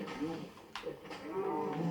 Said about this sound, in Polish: Chodźcie krowy.